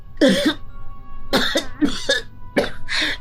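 A run of close, loud coughs from a sick person with a blocked nose and difficulty breathing comes in several separate fits, some doubled, with short pauses between them.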